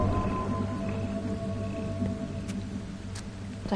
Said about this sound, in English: That's the sound of a beacon.